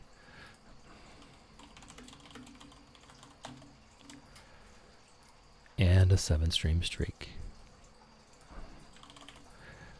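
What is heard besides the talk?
typing on a computer keyboard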